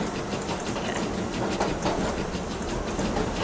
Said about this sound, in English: the passenger train should enter from here.